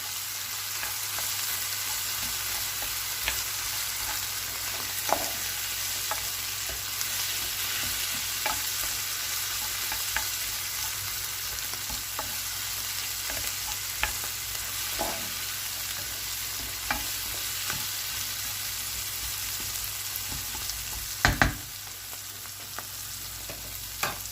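A spoonful of tomato paste sizzles steadily in a hot pan while being sautéed for leek stew, with occasional spatula scrapes and clinks against the pan and a sharper knock near the end, close and continuous.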